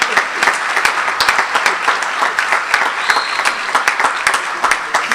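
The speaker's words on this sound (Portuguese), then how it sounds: "Vai aplaudir ou eu tenho que continuar falando?" Audience applause during a sermon on prayer: a steady wash of many hands clapping, fairly close and loud, with sharp individual claps standing out throughout and no voice over it.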